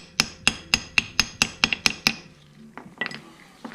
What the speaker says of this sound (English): take like a hammer and give it some nice taps, just to kind of break free all that corroded,